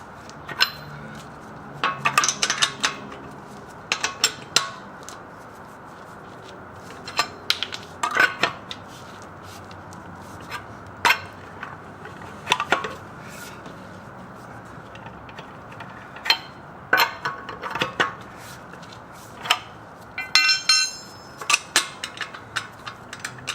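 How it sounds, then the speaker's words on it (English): Lug nut wrench working around the wheel lug nuts of a Lexus LX570 during a tire rotation, giving repeated short metallic ratcheting clicks and clanks in irregular bursts, close and fairly loud, with no talk. "first I'm just going to go around with the lug nut wrench"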